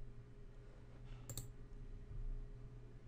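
A pair of quick computer mouse clicks, close and faint, set against a low steady background hum.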